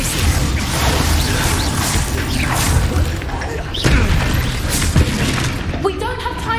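Hogwarts Legacy video game combat: spells being cast with clanking mechanical effects and rumbling explosion booms. Dense, continuous game sound with voice-like sounds mixed in throughout.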